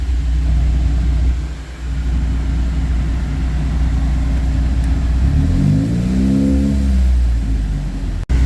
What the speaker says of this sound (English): Now we're back at revving the vehicle again, getting those operating temperatures up so the thermostat can open.